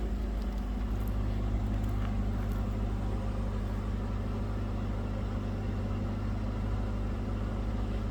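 Stock-exhaust 2006 Cadillac XLR-V engine idling, a steady low hum and drone continuing evenly for several seconds with no revving.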